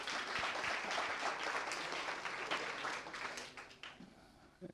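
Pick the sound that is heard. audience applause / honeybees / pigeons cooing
audience applause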